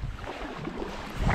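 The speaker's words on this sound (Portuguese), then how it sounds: "Vou na remada de velocidade de cruzeiro" Kayak paddle strokes at steady cruising pace on a river, a soft rhythmic splashing of water against the hull mixed with wind buffeting the microphone, with no talking.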